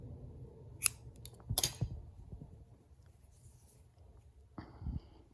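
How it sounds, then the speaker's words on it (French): Scissors snip knitting yarn at a quiet table, two or three short crisp cuts close by, followed later by a faint extra snip, with no talking. "Je coupe."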